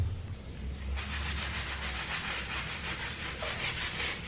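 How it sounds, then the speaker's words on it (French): Rag rubbing a floor with acetone to lift residue, a steady, fast back-and-forth scrubbing rasp that starts after a short pause, close and fairly loud with no speech. "Donc je vais essayer avec l'acétone pour voir si ça fonctionne."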